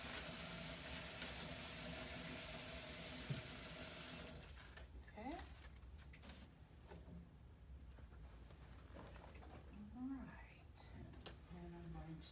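Warm water runs steadily from a tap to fill a basin for a patient's bed bath, a loud continuous rush for about four seconds that cuts off, leaving quiet handling sounds and soft movement.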